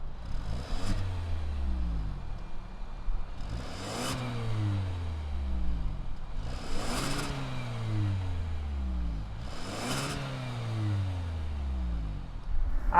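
A 2019 Hyundai Sonata Sport with a turbocharged engine revs four times in steady succession, each rise climbing sharply and then falling away, loud and close with no talking.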